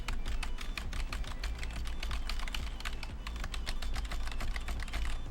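Rapid typing on the keyboard of an old 1980s computer terminal, a dense, close run of clacking keystrokes that continues steadily for several seconds with no talk.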